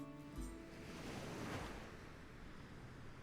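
Ocean waves roll onto a beach in a soft, steady wash of surf with a gentle swell near the middle, faint and distant-sounding, with light wind noise and no voices.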